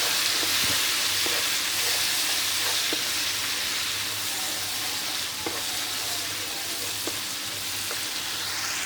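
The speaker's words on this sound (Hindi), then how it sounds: "अब जो हमने प्याज का पेस्ट बनाया था वो अब हम इसमें शामिल करेंगे और इसको भी पकाएंगे" Onion paste fries in ginger garlic paste in a pan for egg korma, a steady loud sizzle with occasional scrapes of stirring throughout.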